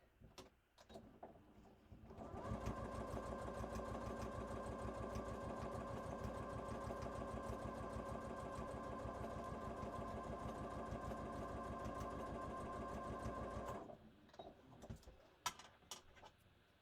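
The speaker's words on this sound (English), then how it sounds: "I'm going to stitch a top stitch along the edge just for a finished look." A sewing machine top-stitches along the edge of a cross-body bag piece, giving one long, even mechanical whir of about eleven seconds with quieter handling noises before and after.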